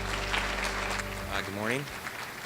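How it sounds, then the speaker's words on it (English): Audience applause at a morning keynote at a state health policy forum in Hawaii, a broad wash of clapping through the first half that fades as a man greets the crowd. "Let's give him a round of applause"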